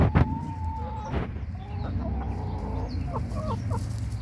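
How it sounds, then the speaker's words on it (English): Chickens cluck softly and steadily nearby, with repeated short, rising calls over a low background murmur, the calls clustering toward the end. "Yep, looks like happy birdies."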